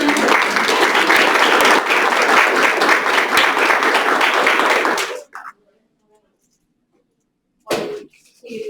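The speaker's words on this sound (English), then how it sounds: "Give them one more round of applause" Loud, sustained applause from a school board meeting audience for honored attendees, dense clapping for about five seconds before cutting off into near silence, with a brief burst of sound near the end.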